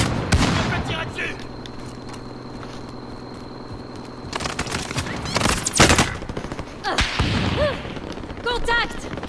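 Bursts of rapid automatic gunfire and single shots ring out in Call of Duty Modern Warfare, loud and close, with a steady mechanical hum between volleys and French-speaking voices talking over parts of it.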